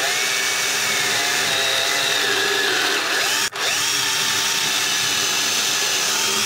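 Power drill boring two holes into a table saw extension cabinet, a steady close whine that briefly cuts out mid-clip before resuming at full speed.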